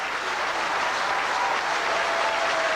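Rugby league crowd at a Hull FC match in 1988 applauding the players, a steady, dense wash of clapping from a large stadium audience, continuous and fairly loud throughout with no speech.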